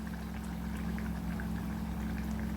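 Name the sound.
mustard oil drizzled from above over prawn malai curry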